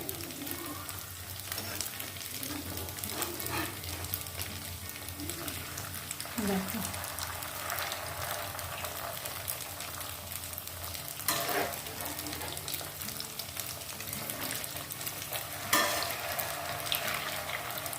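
Pieces for an eggless egg curry fry in oil and are carefully turned, a soft steady sizzle with occasional stirring scrapes, fairly quiet, while someone speaks briefly over it.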